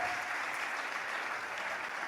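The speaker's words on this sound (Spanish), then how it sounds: "Que aplauda al Señor." Sustained applause fills a church as the congregation claps for the Lord, a thick, even patter of many hands at constant loudness with no voices standing out.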